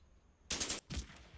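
Machine gun fire in the Combat Mission Fortress Italy wargame, two short distant bursts separated by a brief gap, faint against a near-silent background.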